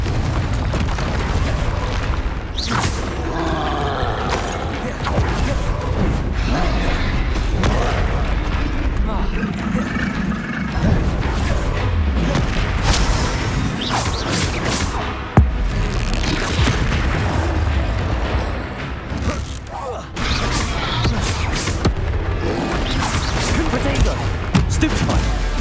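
Repeated Confringo fireball blasts in the Hogwarts Legacy video game, a steady stream of booming explosions and crackling bursts with a loud thump midway, under near-constant talk and game noise.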